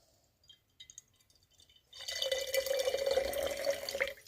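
Apple cider vinegar pours into a container for a salad dressing. After a few faint drips and clinks comes a steady liquid trickle that is close and moderately loud.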